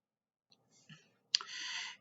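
A computer mouse gives a single sharp click, followed by a brief soft electronic hiss, quiet and isolated in near silence.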